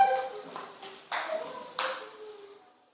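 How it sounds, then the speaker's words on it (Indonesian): Students in a classroom doing a rhythmic group clap for spirit, with three bright clapping bursts spaced about half a second apart and fading ringing after each, no talking. "kita tepuk semangat dulu"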